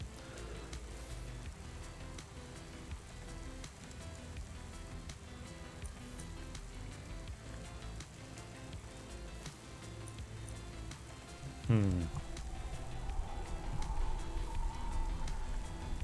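Rain falling in the Cloudpunk video game makes a soft, continuous patter and hiss in the background, with a brief sharper burst near the end followed by a faint tonal hum.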